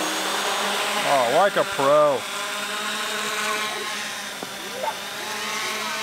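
A heavy, fully 3D-printed FPV quadcopter drone in flight gives a steady, buzzing motor whine that runs throughout, while a person speaks briefly over it.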